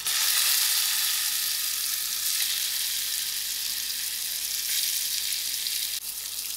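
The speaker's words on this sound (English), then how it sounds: "Now to the same oil, I'm also going to fry my brinjal." Brinjal frying in hot oil makes a dense, steady hiss and crackle, loud and close, holding level throughout with a slight drop near the end and no voices.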